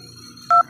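Phone keypad tone from dialing a secret code on an Android mobile: a single short, clear electronic beep over a faint background hum, with no voices.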